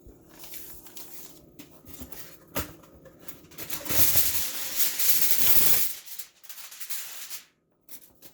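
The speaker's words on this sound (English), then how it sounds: "let me get my aluminum foil" Aluminum foil is pulled and crinkled in a kitchen, with scattered rustles building to a loud sustained crumpling for a couple of seconds before it quiets and ends in near silence.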